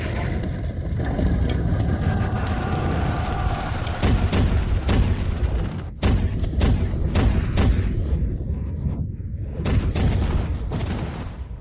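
Repeated heavy booms of cannon fire, loud and close, with dense rumbling and sharp blasts following one another over continuous low roar.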